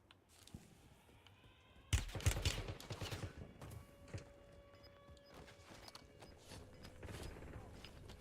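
Video game gunfire in a battle royale match, a burst of rapid shots breaking out suddenly and followed by scattered cracks and thuds at moderate distance, with faint game voice prompts underneath.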